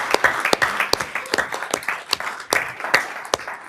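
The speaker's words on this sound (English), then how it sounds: "Can we give them an applause for that?" A school district meeting audience claps for student athletes, uneven and fairly close, with sharp individual claps standing out over a thinner background patter and no talking.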